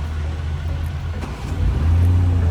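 A 2019 BMW X7 SUV engine turns over and catches, then settles into a steady, loud low rumble close by.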